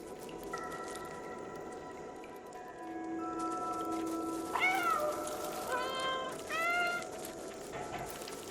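A cat character in the video game Stray gives a few short, high meows in quick succession in the second half, over steady sustained background tones.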